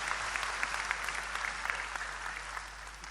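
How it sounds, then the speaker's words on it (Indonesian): Audience at an Islamic religious gathering applauding from a distance, a soft, continuous patter of many hands over a low electrical hum. "Tepuk tangan untuk beliau, enggak apa-apa."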